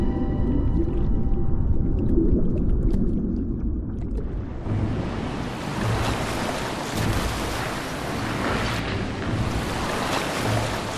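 Humpback whale vocalizations in the open ocean: faint tonal calls at first, then a loud broadband wash of surf and water noise that masks them for the rest.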